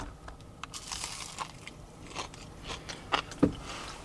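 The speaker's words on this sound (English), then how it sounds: "you got a crispy coating to the potato, a satisfying crunch to it when you bite into it" Bites into a crispy deep-fried potato patty, Indian street food, giving a few short crunches near the end over a quiet background with soft chewing.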